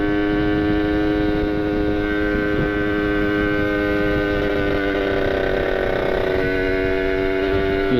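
Kawasaki Ninja two-stroke motorcycle engine idling and running slowly in cold weather, a steady harmonic drone with a slightly uneven, sputtering note, close and continuous throughout.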